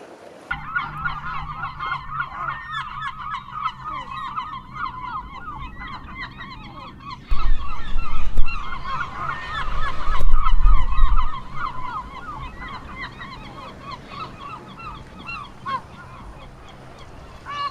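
Herring gulls calling at their nests on an island colony, repeated honking squawks and yelps from several birds at varying distances, with bursts of louder rumbling noise partway through.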